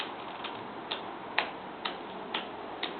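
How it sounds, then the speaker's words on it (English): A steady, mysterious ticking repeats about twice a second, crisp and fairly close, with a faint hiss behind it and no voices. "What is that mysterious ticking noise?"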